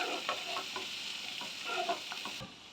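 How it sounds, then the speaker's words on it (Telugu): Onions fry gently in a pan for paneer butter masala, a soft, even sizzle with light rhythmic stirring strokes throughout. "మీడియం సైజు 4 ఉల్లిపాయలు తీసుకుని ఇలాగ పచ్చివాసన పోయేంత వరకు వేయించుకుందాము."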